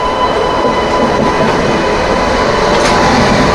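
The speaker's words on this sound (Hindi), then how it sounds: "ये सामने लोको जो आ रहा है ये लगेगा अभी हमारी ट्रेन में" WAP-7 electric locomotive from the TKD shed drawing up to couple onto a waiting Indian express train, a steady loud rolling rumble of wheels and motors throughout, close by, with a faint squeal near the end.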